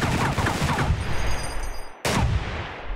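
Sustained full-auto gunfire at a shooting range in the game Receiver 2, a loud, dense burst of rapid shots that cuts off abruptly near the two-second mark and then resumes just as fiercely.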